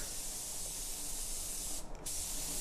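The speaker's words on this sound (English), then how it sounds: "I'm just using the gun as a blow gun here in conjunction with a tack rag to remove any surface imperfections." A paint spray gun used as an air blow gun sends out a steady close hiss of compressed air during panel preparation, with a brief dip near the end.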